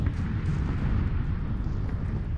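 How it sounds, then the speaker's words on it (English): Grenade blast in a video game, a dense low rumbling roar that fills the whole short stretch at steady loudness, with no distinct sharp onset. "It was a grenade."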